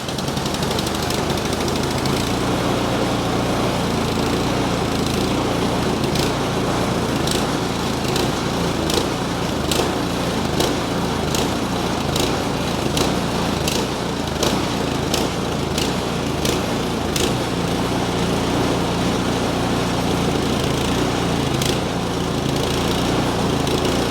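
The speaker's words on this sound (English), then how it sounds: "The hunting and surging is not good" A Troy Bilt 2420 snow blower's small engine runs loud and close, hunting and surging with uneven rhythm and sharp popping bursts, with no talk over it.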